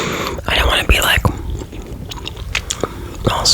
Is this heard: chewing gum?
yes